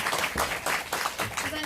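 An audience at a business seminar breaks into loud, sustained applause, with dense clapping filling the room.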